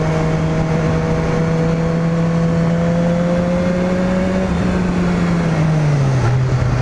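Engine of a BMW S1000RR sport motorcycle held at a steady drone through a corner, the tone easing then dropping as the bike slows, with constant wind rush throughout and no talk.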